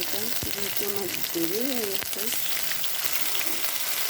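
Food frying in a shallow layer of oil gives a steady, close sizzle throughout, with a voice speaking briefly over it near the start.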